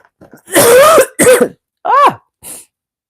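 Several loud coughs and throat-clearing bursts, close by, in quick clusters with short pauses between them, no talking.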